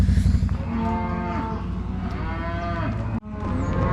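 Cows and calves in cattle yards lowing: long, drawn-out moos overlapping one another, loud and close, with a brief break near the end before calling resumes.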